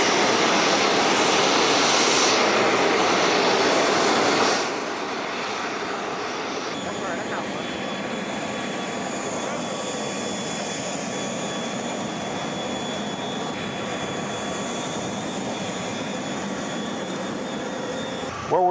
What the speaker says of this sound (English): shortly we're going to get on this jet and we're going to go get this organ.